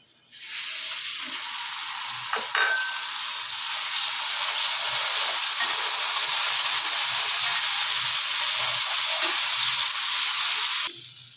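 Onion and whole garlic cloves fry in a pan, giving a steady, fairly quiet sizzling hiss with a faint clink partway through, continuous until it cuts off near the end, with no voices.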